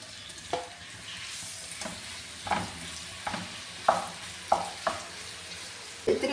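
Fish pieces fry for pickle in hot sesame oil, which gives a steady sizzle under intermittent scraping and stirring clicks. The clicks fall roughly every half second to second, close by, and no one speaks.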